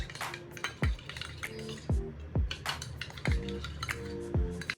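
A spoon stirring a detan pack and toner in a bowl, giving repeated light clinks and scrapes against the bowl in an irregular rhythm, close and fairly quiet, without talk.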